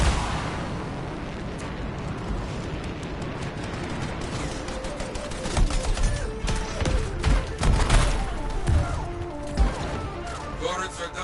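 Explosions from turrets being blown up in the video game Anthem, a steady wash of gunfire and blasts with several sharper booming bursts in the second half, loud and close.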